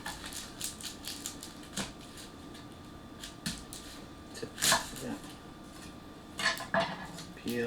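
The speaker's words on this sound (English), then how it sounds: "The thing we're going to try to cut is the good old onion." A budget gyuto chef's knife cuts through an onion on a cutting board, giving scattered sharp taps and crisp crunches, a few louder strikes near the end, over a faint steady background.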